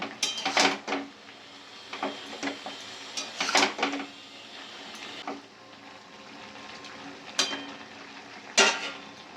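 Spinach with green chili and turmeric being stirred in a pan, irregular scraping and clattering strokes over a steady low background, with a few sharper knocks, no voices.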